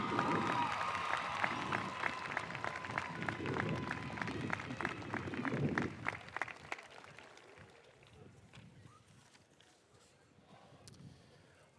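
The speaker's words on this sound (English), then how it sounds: "Let's give another round of applause for Alexis." Graduation audience applause at a Monroe High School ceremony, a broad crowd clapping that is fairly loud at first, then thins out and dies to scattered faint claps with room murmur.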